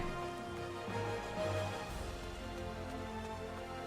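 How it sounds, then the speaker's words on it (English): Steady rainfall in Final Fantasy XIV washes across the whole stretch as a dense, even hiss, mixed with faint sustained in-game tones. "Rain feels nice."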